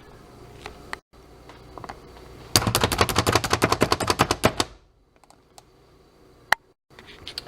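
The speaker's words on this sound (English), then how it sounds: "You just press down and they will start to chop." Rapid, rhythmic chopping clicks from a press-down chopper cutting nuts, about twenty sharp strikes in a quick burst lasting a couple of seconds, close and fairly loud.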